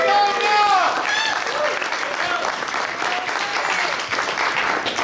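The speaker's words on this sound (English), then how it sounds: "Let's give Melanie a great big hand." A Rotary Club party audience claps loudly and steadily for a guitarist and singer, with some voices and a whistle mixed into the applause.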